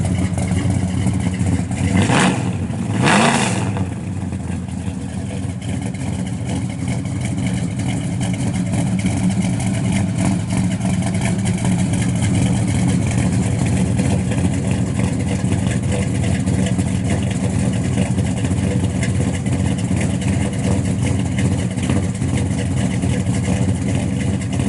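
A 1967 Chevrolet Chevelle SS 427 convertible idles with a deep, steady rumbling pulse throughout, close and loud, with a couple of brief throttle blips early on.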